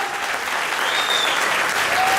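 Crowd at a California Hotel community event claps loudly and continuously, a dense sustained wash of applause with a faint tonal whistle or cheer above it.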